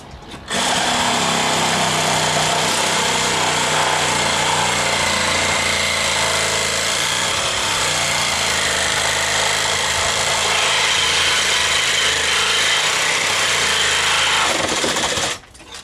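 A power tool grinds and cuts through old bolts on a wooden boat, a loud continuous harsh buzzing roar that runs steadily for about fifteen seconds before stopping abruptly.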